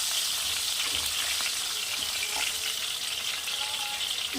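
Long-cut potato strips fry in oil, a steady soft hiss and crackle of sizzling with a few light stirring taps, close and continuous.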